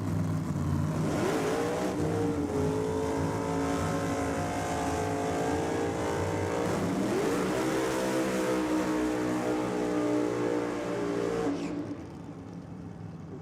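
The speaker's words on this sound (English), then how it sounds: "Good strong burnout there from Toby, equally as good for Tim Gruber." A nitro drag car roars through a long, sustained burnout at a drag strip, its engine howling steadily with a rising and falling pitch before cutting off abruptly near the end.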